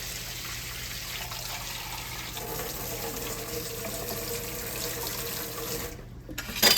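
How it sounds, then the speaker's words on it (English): One cup of water runs steadily from a tap into a container for strawberry lemonade, a continuous splashing trickle that ends with a louder clatter. "I'm going to add 1 cup of water to this."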